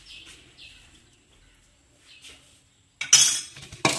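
A spoon stirs red chilli into a lemon and green chilli pickle, giving a few faint soft scrapes, then two sharp, louder clinks of metal on the container near the end.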